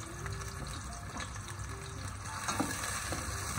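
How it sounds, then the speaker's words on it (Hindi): Onions fry in a pan toward golden brown, making a constant close sizzle with light spattering and a brief louder stir near the end. "प्याज डाल रही हूँ, और इसमें से भी मैं प्याज निकाल लूँगी। ठीक है, इसको हम करेंगे गोल्डन फ्राई, गोल्डन ब्राउन"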